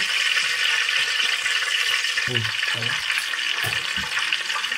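Oil poured into a hot pan for frying crushed garlic gives a steady, close hiss of sizzling, broken by a few soft clunks of the pan or utensil.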